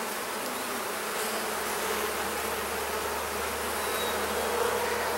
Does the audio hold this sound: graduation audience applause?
no